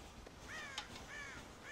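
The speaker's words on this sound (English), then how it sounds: "God damn crows!" Crows caw repeatedly in the video game Red Dead Redemption, a few harsh calls at a moderate distance spaced evenly over a faint ranch background, with no talk.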